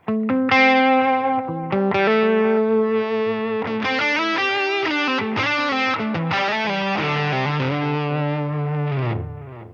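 Heavily distorted electric guitar through a Helix, with drive boosted to full by an expression pedal, plays a run of sustained notes and chords, loud and saturated with a thick, driven tone, ringing out alone.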